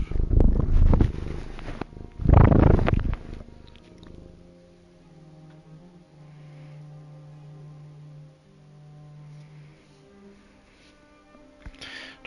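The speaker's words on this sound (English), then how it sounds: "Always good to have a loudly purring cat close by." A cat purring loudly close by, a steady low rumbling purr running through the middle stretch, preceded by a couple of loud bursts of louder noise.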